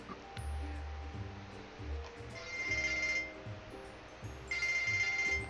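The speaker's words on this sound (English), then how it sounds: "Getting a phone call." A telephone rings with an incoming call in two short bursts of electronic trilling, fairly faint, over a steady low background hum with no talking.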